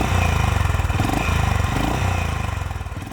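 A Honda H'ness CB 350 motorcycle exhaust thumps loudly and close by at a steady, pulsing idle, with a slight rise and fall in its beat.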